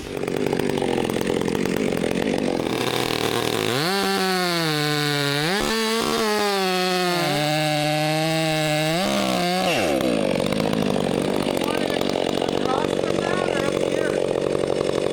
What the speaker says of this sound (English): hand me that chainsaw